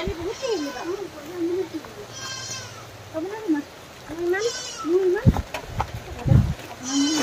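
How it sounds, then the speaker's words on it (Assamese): Several goats bleat loudly and repeatedly, calls coming every couple of seconds, with people talking in between and a few knocks near the end. "ছাগলীবোৰ খুব চিঞৰিছে"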